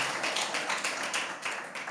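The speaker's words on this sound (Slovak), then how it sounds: "Dajme potlesk Pánovi." A church congregation applauds together, a dense, steady wash of many hands clapping at close range with no pause across the whole stretch.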